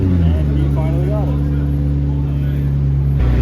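A McLaren Senna supercar being driven and parked by a valet at a busy Toronto supercar show gives a steady, close engine drone with a deep low hum, while the crowd talks over it.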